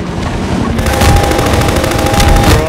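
Rapid machine gun fire in Half-Life 2 VR, Episode 2, a dense continuous burst of shots close and loud, running steadily throughout without pause.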